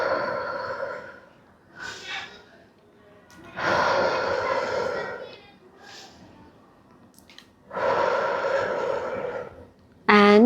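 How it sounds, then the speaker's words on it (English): Slow, deep breathing during a relaxation dance therapy session, with long audible inhales and exhales in a calm rhythm of about four breaths, close and breathy, with quiet gaps between them. "Now you can go simply inhalation and exhalation."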